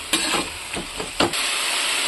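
Tomatoes and green chillies fry in a pan with a soft, steady hiss broken by a few faint stirring scrapes, fairly quiet and close.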